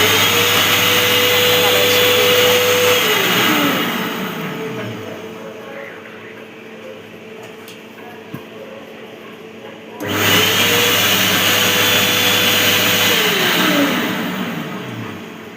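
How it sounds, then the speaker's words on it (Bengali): An electric hand dryer in the washroom of a Vande Bharat Express train runs with a loud, close whooshing roar that winds down, falls quiet for several seconds, then starts up again. "এটা হচ্ছে ড্রায়ার।"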